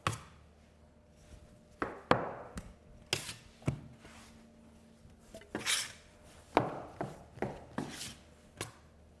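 Bread dough cut and divided by hand on a work surface during weighing and shaping: about a dozen sharp, close chopping knocks spaced irregularly over several seconds, with quiet pauses between them.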